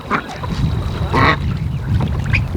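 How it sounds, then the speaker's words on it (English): Ducks in a pool on a poultry homestead, a few loud quacks and honks close by, over splashing and a low background noise. "See these ducks, they love this pool."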